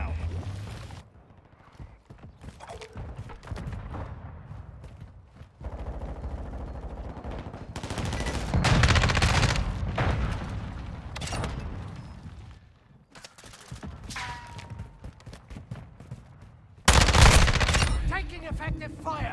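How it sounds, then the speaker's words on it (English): Mortar strike explosions in a video game battle, several heavy booming impacts that come in waves and mix with rapid gunfire. The loudest blast lands near the end. "Mortar strike inbound now."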